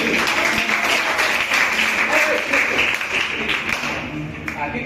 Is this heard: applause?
yes